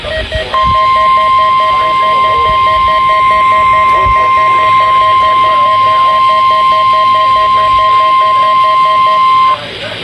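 A National Weather Service weather radio warning alarm tone for the Central Highlands of Ohio, a loud steady single-pitch tone held for about nine seconds over a faint second pulsing tone, then cutting off abruptly.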